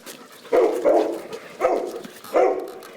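A dog barks four times at uneven intervals, close and loud, each bark short and gruff.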